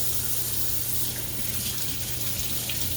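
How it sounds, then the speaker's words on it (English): Tap water runs steadily into a kitchen sink as hands are washed midway through cooking Mongolian beef, a continuous close splashing hiss with no talk. "Always wash your hands throughout the cooking process."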